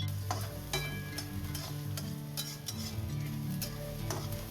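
Onion frying in a pan with salt, a steady close sizzle throughout broken by repeated scraping and clinking of the spoon as it is stirred, with no talking.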